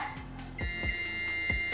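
A high electronic tone from a buzzer triggered by a distance sensor sounds continuously with steady harmonics, broken by a few short clicks and thumps at close range.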